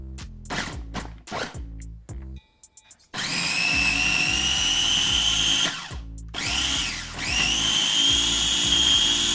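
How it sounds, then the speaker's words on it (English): A mini food processor grinds coconut sugar and aromatics for Thai-style prawns. Several quick whirring pulses come first, followed by two longer, loud motor runs with a rising whine. "we just want to use the grinding function of this mini processor and get everything chopped up to nice and small. And so we just pulse."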